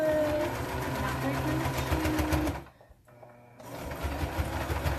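A sewing machine stitches T-shirt knit fabric for a dress in steady, close, rapid mechanical runs, briefly pausing near the middle before resuming at full pace.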